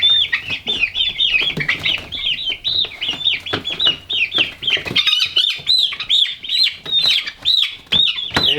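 A flock of chickens clucks and squawks loudly and continuously at close range, their agitated calls overlapping, with a faint rustle of wings and no talking.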